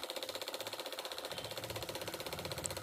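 A sewing machine stitching a heavy Patiala salwar runs steadily, its needle mechanism ticking in a fast, even rhythm throughout, close and clear with no talking.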